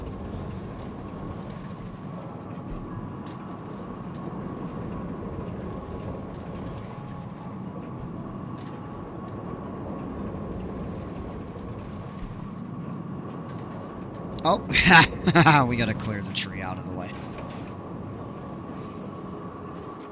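Low rumbling of a coaster train rolling along its track in the video game Planet Coaster 2, a steady drone with a brief clattering burst near the end; a voice speaks briefly.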